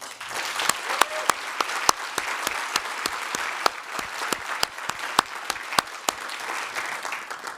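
Audience applause at a Greater Cleveland civic gathering, honouring the board chair and the Cleveland Guardians' season, with steady clapping from a modest crowd and a few louder, sharper claps standing out across the whole stretch.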